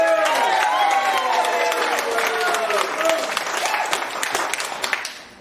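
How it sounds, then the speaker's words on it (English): Audience at a public meeting claps in a sustained, fairly close burst with cheering voices over it, then thins into scattered individual claps toward the end. "You're allowed to clap. Come on, let's hear it."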